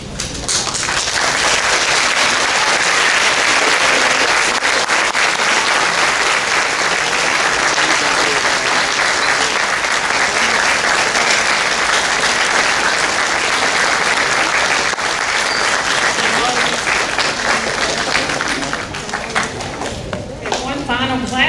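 Loud, dense applause from parents and families for fifth grade graduates at an elementary school graduation ceremony, a sustained roar of clapping with crowd voices mixed in that eases slightly toward the end.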